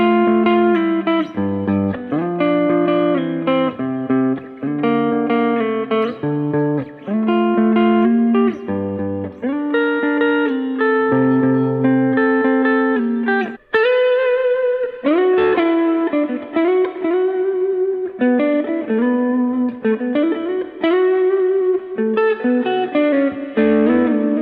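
A Gibson electric guitar played through effects pedals, with sustained distorted chords and melodic runs ringing with reverb, loud and continuous with a brief break midway.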